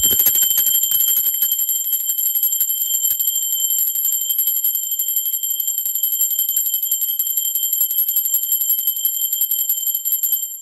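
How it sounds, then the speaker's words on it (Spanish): A small bell rings a continuous bright, high shimmer with a sustained tone throughout, loud and alone with no voice over it. "Va campana"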